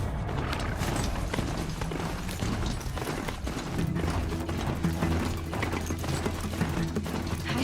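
Strider machine mount from the video game Horizon Zero Dawn running at speed, a steady mechanical clatter of gear-like ratcheting and hoof-like clopping that stays loud and continuous throughout.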